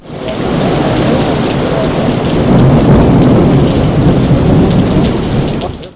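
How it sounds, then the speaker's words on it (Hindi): Heavy rain pours down in a dense, continuous roar while thunder rumbles low beneath it, loud and close throughout, with no voices. "गरज चमक के साथ बारिश से गर्मी की शिद्दत में कमी आ गई"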